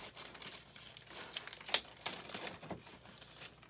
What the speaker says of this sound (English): in this case to open this package.